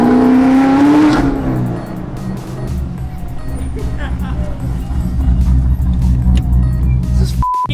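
A V8-engined Evo 8 revs hard and accelerates: a loud, close engine roar that holds steady and swells, with a brief tonal whine early on and people talking over it.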